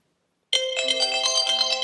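A telephone ringtone starts abruptly after a half-second of silence, then continues as a loud, bright, steady electronic ring with pulsing tones.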